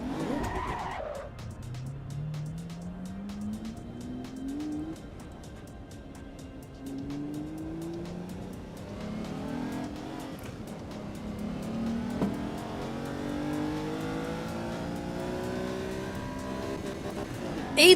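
A Countach drifts in the Assetto Corsa Evo racing game, with long tire skids and squeals over an engine that revs up and down in repeated rising sweeps, loud and continuous.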